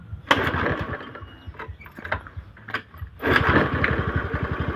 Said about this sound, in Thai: สตาร์ทเท้าครั้งหนึ่งไม่ติดครับ ครั้งที่สองก็ยังไม่ติดครับ อ่าติดแล้วครับ ติดแล้วแต่ว่าก็ดับลงไปครับ